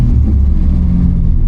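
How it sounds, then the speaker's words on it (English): A Datsun 280Z running a FAST EZ EFI system rumbles with a deep, steady, loud engine drone close by, holding a constant low pitch with no clear rise in revs. "If I rev it, if I rev the car, that learning light's gonna go away."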